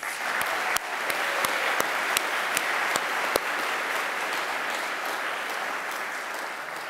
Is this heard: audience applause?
yes